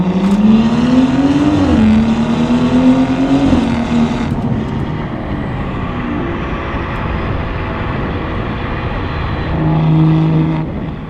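BMW F30 exhaust burbling while driving on new tires, a steady close engine drone rising and falling with throttle, with crackles and pops as revs drop, loud throughout with no voices.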